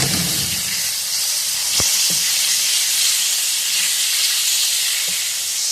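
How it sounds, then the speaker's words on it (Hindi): Chicken pieces fry with browned onions in a pan, a loud, continuous hiss and sizzle filling the space, with a couple of brief clinks from a utensil against the pan and no speech. "अब हम इसमें चिकन ऐड करेंगे और इसको फ्राई कर लेंगे।"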